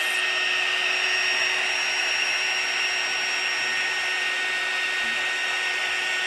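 Steady, fairly loud blower hiss of a heat gun pushing alcohol inks across a tumbler, running continuously without pause or speech.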